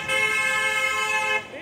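A car horn blares in Pune street traffic, one sustained bright honk lasting over a second, loud and close, then cutting off as the street noise drops.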